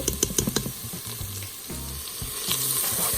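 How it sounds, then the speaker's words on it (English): Bacon, butter and garlic fry in a pressure cooker pot, giving a steady crackling sizzle, with a few sharp clinks and scrapes of stirring near the start. "Get our bacon fried in there."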